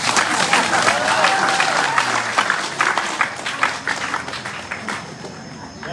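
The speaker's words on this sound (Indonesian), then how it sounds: "Tepuk tangan lagi." Sustained audience applause at a ceremony installing a regent as customary patron in Ngada-Nagekeo, a dense wash of many clapping hands, loud and close at first and tapering slightly toward the end.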